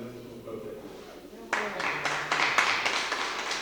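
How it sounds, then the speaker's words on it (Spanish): Audience at a citizens' forum bursts into applause after a brief stretch of talk, with the clapping starting sharply and building into a moderate, steady round. "quiero que le mandemos un fuerte aplauso"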